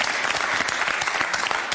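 A studio audience on a live broadcast bursts into applause, a brief and loud flurry of many hands clapping close by.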